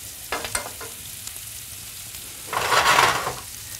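Food sizzling in a hot pan, with a couple of brief crackles early on and then a louder, fuller burst of frying about two and a half seconds in. Nobody speaks.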